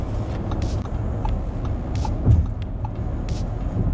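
Audi e-tron electric car cruising on a highway, a steady broadband road and tire rumble with wind noise throughout, a brief louder thump near the middle, no voices.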